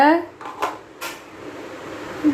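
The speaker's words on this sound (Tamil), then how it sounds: "மீதி ஒரு கால் கப்பு எண்ணெயும் நெய்யும் சேர்ந்த கலவையை விட்டுக்கோங்க இப்போ நல்லா கிண்டி கொடுங்க" A spoon scrapes and clinks against a pan while halwa cooked with ghee and oil is stirred, giving a few sharp metallic knocks and scrapes spaced irregularly, close and moderately loud, with a voice briefly at the start.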